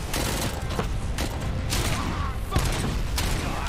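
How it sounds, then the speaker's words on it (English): Gunfire and grenade blasts in RoboCop: Rogue City, a dense, continuous barrage of sharp reports and heavy thuds over a low rumbling game soundscape, with one punchier impact standing out near the end. "They're throwing grenades at my face."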